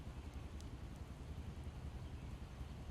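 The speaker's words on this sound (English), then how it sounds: "And it's raining again." Rain in the video game Project Zomboid makes a soft, steady low rumble and patter, faint and unbroken, over a few seconds.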